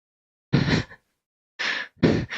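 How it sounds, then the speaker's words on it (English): Heavy breathing after a strength-building exercise set comes as three loud, close, forceful breaths separated by short pauses, with no talk. "Heavy breathing."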